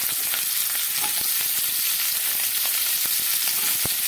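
Cauliflower and potato pieces sizzle in hot oil in a pan, a steady close crackle with scattered sharp pops and stirring clicks throughout.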